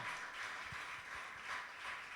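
A congregation claps along during an evangelical church service, a steady, soft wash of many hands, fairly distant and even, with faint low thumps pulsing under it.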